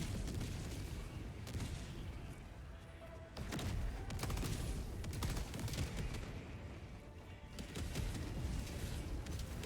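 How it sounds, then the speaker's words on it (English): Orbital barrage shells pound the ground in Helldivers 2, heavy repeated blasts and gunfire crackle arriving in loud bursts over about ten seconds, dense and overlapping, with brief lulls between the strongest impacts. "Firing orbital barrage."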